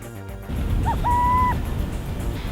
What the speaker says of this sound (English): the most recognizable sound is the sound of the alarm